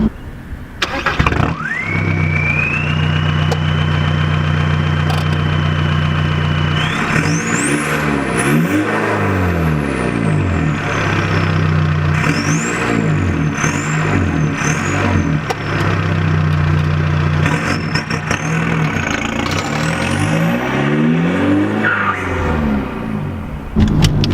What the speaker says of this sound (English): what's really cool about this car is having the diesel motor with a straight pipe